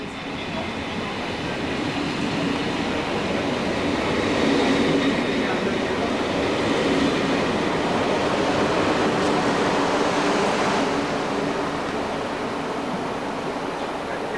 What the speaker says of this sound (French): Nous nous trouvons à la gare de la Part-Dieu, qui est la gare principale de Lyon